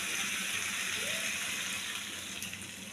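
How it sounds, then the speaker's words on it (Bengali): Water pours steadily into a pan of spiced peas and potatoes, a continuous close gushing splash that lasts throughout and fades slightly toward the end. "জল দিয়ে দিচ্ছি, ব্যাস এইটুকুই জল দেবো"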